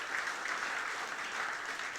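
Dense, steady applause from a church congregation during a worship service, even and sustained throughout.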